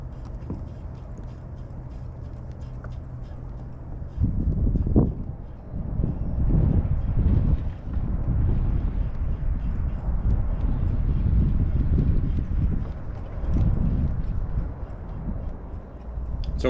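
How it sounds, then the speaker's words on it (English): Strong wind buffets the microphone on open water from a Pelican SEEK fishing kayak, a steady low roar that surges louder and gustier midway through, with no voices. "the conditions were extremely windy"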